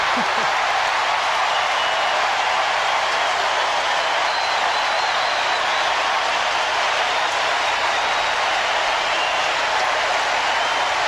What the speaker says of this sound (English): Got the crowd on their feet here.